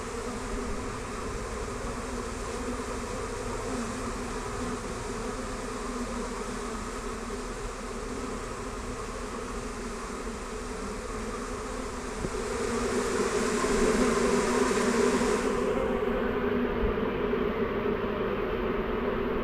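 A steady, continuous drone of honey bees buzzing close by in a garden ornament, growing noticeably louder partway through.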